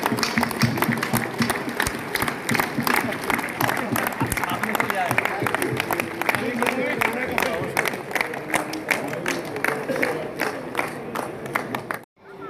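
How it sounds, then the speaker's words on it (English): A crowd applauds at the closing of a Mewa India show event, with dense, sustained clapping from many hands that stays strong throughout, some voices mixed in, and a sudden stop at the very end. "Let's give them a hand of applause."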